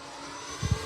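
Tecnam light aircraft flying slowly overhead on its maiden flight, a steady faint engine hum with a pair of brief low thumps near the end, no talk.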